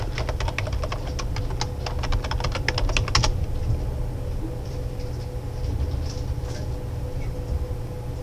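Rapid keystrokes on a computer keyboard as an email address is entered, a quick burst of clicks lasting about three seconds over a steady low background hum, then only the hum.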